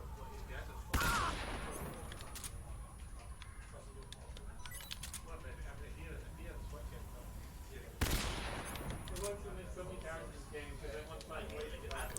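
Two sharp, loud shots from a Mosin Nagant rifle in Metal Gear Solid 3, spaced several seconds apart, each followed by a decaying rumble, with clicking game noises in between.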